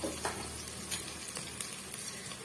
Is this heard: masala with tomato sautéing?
yes